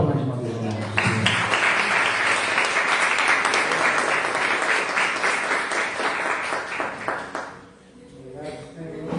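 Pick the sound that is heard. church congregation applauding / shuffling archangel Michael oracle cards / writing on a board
church congregation applauding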